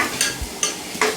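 Spices sautéing in oil for an egg curry are stirred in a pan, with three quick spatula scrapes over a soft sizzle in a short close burst.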